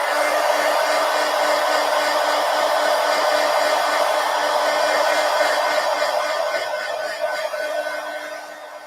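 A hair dryer blows steadily close by, drying paint on a mixed media collage, its loud constant whir holding for about eight seconds before easing slightly near the end.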